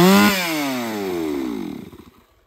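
A chainsaw runs at high revs, then winds down and sputters to a stop over about two seconds, loud and close with no talk.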